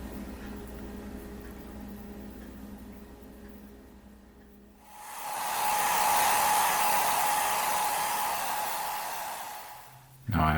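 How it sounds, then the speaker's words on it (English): A hair dryer blows on freshly airbrushed, thinned paint on a scale model ship, starting abruptly midway with a loud, steady rushing whir that holds for several seconds before cutting off, after a quieter stretch of room noise. "after using a hairdryer to rush it like that"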